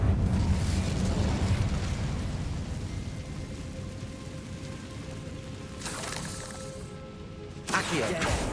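Incendio fire spell cast in Hogwarts Legacy, a loud rushing whoosh and fiery roar that slowly fades, followed by two brief bright bursts near the end.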